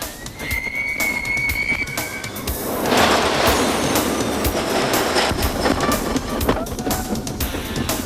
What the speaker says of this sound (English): With new Douglas fir track and new trains manufactured by Philadelphia Toboggan Company, this old Woody is still a great ride.